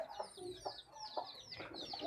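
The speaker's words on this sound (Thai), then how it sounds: "และก็มีลูกไก่อีกคอกหนึ่งนะคะ ลูกไก่ที่มีแม่นะคะ" A hen clucks among her chicks in a backyard coop, with soft repeated clucks under a steady chorus of high chick peeping, close and moderately quiet.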